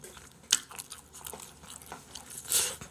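Corn on the cob being bitten and chewed close up, with sharp crunchy bites near the start and end and softer chewing between, no talking.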